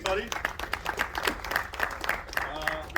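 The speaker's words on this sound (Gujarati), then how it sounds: "જોરદાર તાળી એમના માટે" An audience claps at the premiere of the Gujarati film 'Surprise', a steady patter of applause running under someone speaking loudly over it for the whole few seconds.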